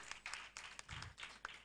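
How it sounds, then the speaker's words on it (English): Faint applause from an audience at a women's cricket player auction, with scattered claps in quick bursts heard from a distance for a moment. "So please give a big round of applause to Mrs."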